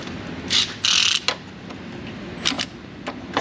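A socket ratchet clicks in short rapid bursts while working under a 2012 Chevrolet Avalanche 5.3 4x4, close and loud against a low hum of background room noise, with no speaking.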